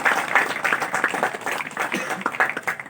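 A crowd at a youth awareness run in Kandrodi, India, breaks into steady, fairly loud applause after the race, with dense overlapping claps continuing throughout.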